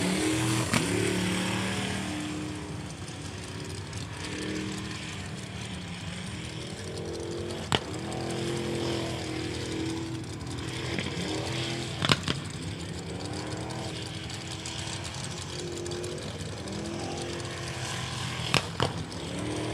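A race car's engine runs rough at a pro racing event, a continuous uneven rumble with a few sharp pops and crackles, heard amid the general noise of the venue.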